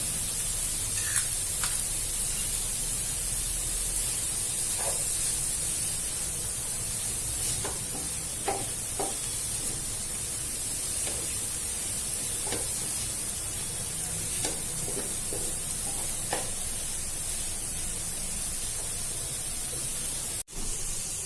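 Ginger-garlic paste and green chilli fry in a pan for masala pav, giving a steady hissing sizzle with a few soft clinks and stirring taps scattered throughout.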